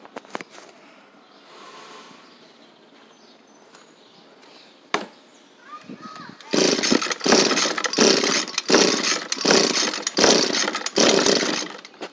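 A 2015 Echo PAS-266 power head is started cold. A few quiet rattles come first, then a run of loud, rhythmic pull-cord rasps close by as the engine is yanked repeatedly.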